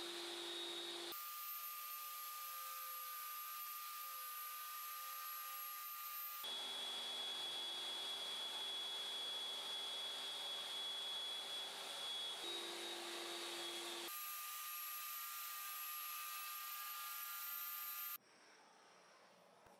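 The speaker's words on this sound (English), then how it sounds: "I cut grooves for the T-tracks with a table saw." A table saw runs steadily while cutting grooves for T-track, giving a loud, continuous whining drone with sharp pitch shifts as separate passes start and stop, then the motor winds down near the end.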